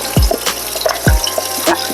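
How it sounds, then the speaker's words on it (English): A kitchen tap runs while pastelitos are being mixed, giving a close, steady water stream punctuated by a few sharp drips or splashes and a couple of low thuds. "Can't let my water run because the water bill."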